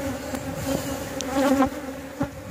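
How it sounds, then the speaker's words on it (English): Newly emerging bees at a backyard hive make a continuous close buzz, with a few brief louder swells as individual insects pass near. "And they're getting ready to come out. Say hello. Emerging bees."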